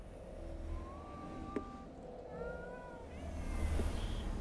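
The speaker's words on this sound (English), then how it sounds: "Another cat. All the cats." Cats meowing in the Ghostwire Tokyo video game, a few thin, drawn-out mews spaced across the stretch, fairly faint over a low rumbling background hum, with no talking.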